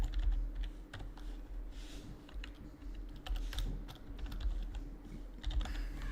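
Steady typing on a computer keyboard while writing web code, irregular clusters of close, crisp key clicks with short pauses between bursts, no talking.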